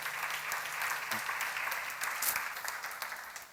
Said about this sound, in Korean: 박수로 하세요. 지혜로운 장검.